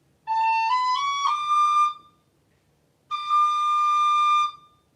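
A tin whistle plays a stepwise run of notes up from D, one clear solo phrase climbing note by note, then after a short pause a second sustained high note, close and unaccompanied.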